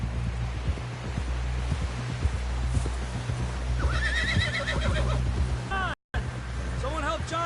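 Horses in the Red Dead Redemption 2 game whinny and neigh repeatedly while hooves clip-clop steadily beneath, with people's voices talking over the scene.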